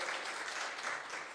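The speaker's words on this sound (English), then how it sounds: "Can we give a round of applause?" Audience at a banquet hall breaking into a round of applause, dense sustained clapping from many hands at fairly low level, steady across the whole moment with no speech.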